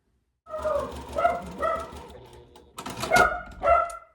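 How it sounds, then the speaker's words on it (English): A small dog barks in a few sharp, repeated yaps, fairly close, with brief pauses between bursts. "you can hear my doggy barking"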